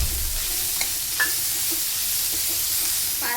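Vegetables with spring onion greens stir-fry in hot oil for fried rice, a dense, even sizzle and hiss with a few faint clicks, close and uninterrupted by speech.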